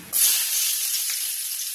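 Chopped garlic dropped into hot tempering oil with bay leaf, setting off a sudden loud sizzle that holds steady as a bright, close hiss for the rest of the moment.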